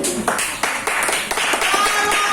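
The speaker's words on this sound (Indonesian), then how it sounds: "tepuk tangan dulu untuk kelompok 4" A classroom group gives a short burst of hand clapping, a few seconds of brisk, fairly close applause.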